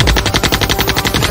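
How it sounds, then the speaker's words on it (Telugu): Rapid machine gun fire in a Telugu movie action scene, a close, loud, steady rattle of evenly spaced shots throughout the short burst. "మిషన్ గన్ తో పెట్టల్ని కలిసినట్టు శత్రువులందరినీ కాల్చిపారేసింది."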